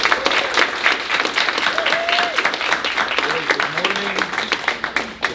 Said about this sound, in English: let's give a warm welcome and round of applause to Rod